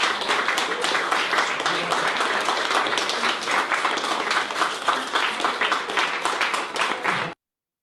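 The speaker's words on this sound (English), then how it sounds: "So we clap for Eric." An audience at a German book launch celebration claps for Eric, a dense, sustained round of applause that runs evenly for about seven seconds and then cuts off abruptly.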